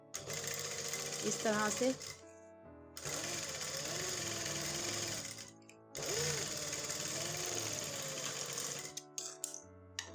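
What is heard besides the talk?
sewing machine stitching a trouser edge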